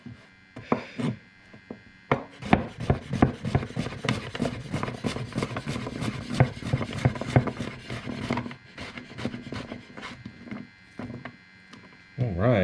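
A knife slices yellow and zucchini squash into half moons on a cutting board with a fast run of crisp, close chops. The chops come in quick bursts with brief pauses, then a few final cuts.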